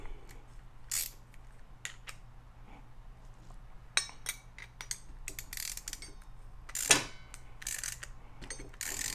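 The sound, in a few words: ratchet tightening exhaust tailpipe clamp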